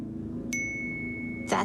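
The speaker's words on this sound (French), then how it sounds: "J'ai reçu une notification." A phone notification chime rings once, a clear sustained electronic tone over a quiet room hum, followed by a short burst of noise.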